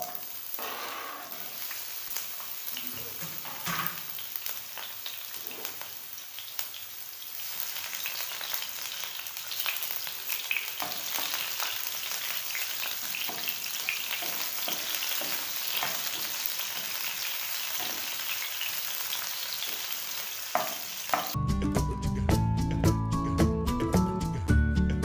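Onions frying in oil in a pan for Hakka noodles, a steady broadband sizzle with scattered crackles and stirring clicks, close and continuous; music comes in near the end.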